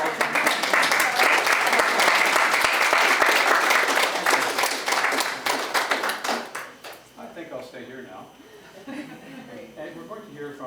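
Loud, sustained applause from a gathered crowd at a celebration of life memorial, dense clapping that holds steady for several seconds and then thins out and fades as a few scattered claps and murmuring voices remain.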